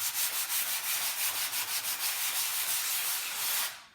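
Sandpaper rubbed back and forth over milk-painted wooden furniture, a close, loud, rhythmic scratchy rasp in quick even strokes that stops just before the end.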